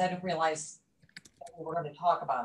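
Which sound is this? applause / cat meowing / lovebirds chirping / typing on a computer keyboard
typing on a computer keyboard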